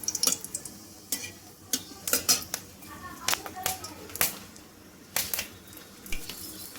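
Dried chilli tempering sizzles in hot refined oil in a wok, a steady crackle broken by repeated sharp ticking and clinking pops spread through the clip, close and fairly quiet.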